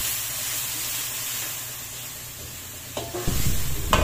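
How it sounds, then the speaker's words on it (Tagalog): Tomato sauce sautéing with onions in a pan, a steady sizzle and hiss that grows louder and crackles near the end as the mixture is stirred. "Igigisa natin ang tomato sauce"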